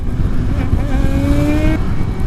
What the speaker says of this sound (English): Unfortunately, this exhaust is very quiet.